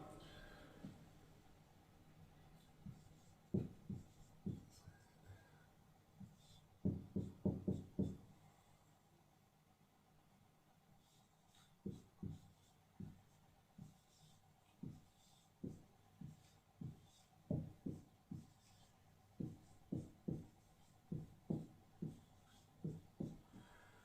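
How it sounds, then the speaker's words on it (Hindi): Chalk tapping and scraping across a board as a sentence is written, in short bursts of sharp clicks and strokes with pauses between, fairly close and alone without talk. "मैं यहां पे एक जुमला लिखता हूं"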